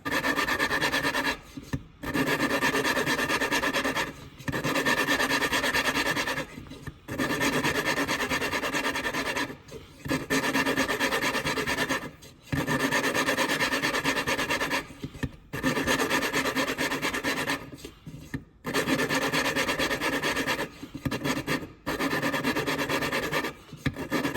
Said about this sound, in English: I put on my valve grinding compound, my suction cup. And I'm going to start lapping.